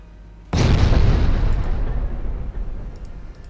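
A torpedo launch from a German 1910-era warship in Ultimate Admiral Dreadnoughts sets off a sudden loud, deep boom that rumbles on and slowly fades over a few seconds, with no voices.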